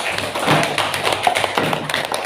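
A classroom of students applauds a presenting group with dense, steady clapping that fills the whole stretch at a moderate, close level.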